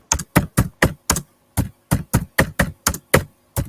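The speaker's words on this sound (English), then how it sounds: "Going mad on the keyboard." Hard, sharp keystrokes clack on a computer keyboard, roughly a dozen distinct hits in uneven quick bursts, loud and close with silence between them.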